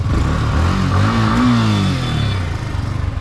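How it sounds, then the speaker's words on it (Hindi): A 2024 Yamaha R15M motorcycle exhaust revs up and falls back, its engine note climbing and dropping close by in one sustained swell. "इसका एग्जॉस्ट साउंड चेक करो"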